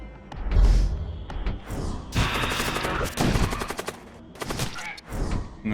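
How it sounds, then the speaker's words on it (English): Spaceship cannon fire in the video game Void War: rapid bursts of heavy shots and thumping impacts in quick succession, loud and close, with short pauses between volleys. "I guess this time we'll actually see the cannon shoot."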